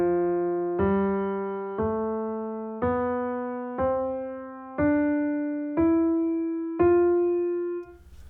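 A clean jazz guitar plays the Lydian scale as eight evenly spaced single notes, each plucked and left to ring, climbing step by step, close and clear with no talking.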